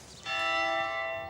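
A church bell in Alsace strikes once and rings on, a bright sustained metallic tone with long ringing overtones that slowly fade, heard alone.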